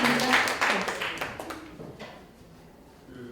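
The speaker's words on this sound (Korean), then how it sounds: "감사의 박수 부탁드립니다" A seminar audience at a jewelry conference claps in thanks for a speaker, fairly loud applause at first that quickly thins and dies away, leaving a quiet room.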